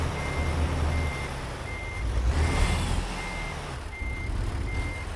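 A truck reverses to pick up a bitumen trailer in American Truck Simulator, its backup alarm beeping steadily in evenly spaced pulses over a low idling engine rumble.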